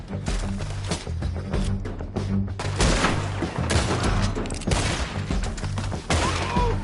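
Repeated gunfire in a Red Dead Redemption 2 shootout, with dense volleys of sharp shots and thuds continuing throughout amid shouting voices and a steady low hum.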